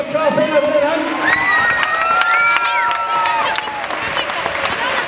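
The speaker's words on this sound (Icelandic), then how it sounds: "Við skulum gefa þeim stúlkna Keflavík gott klapp innan fyrir hann." A crowd at a 2013 Icelandic women's basketball championship celebration for Keflavík claps and cheers in a dense, continuous burst, with high shouts and whoops rising over the applause.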